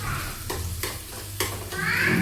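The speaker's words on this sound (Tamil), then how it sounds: "ஆனியன் நல்லா ப்ரௌனாக வர வரைக்கும் நம்ம நல்லா வதக்கணும்." Onions sizzle in a pan while a spoon stirs them, with a few distinct scraping strokes over a steady frying hiss that swells toward the end.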